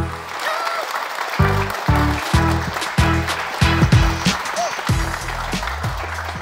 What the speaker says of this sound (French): je vous propose qu'on accueille dès maintenant, avec les applaudissements du public, Elena qui est juste là.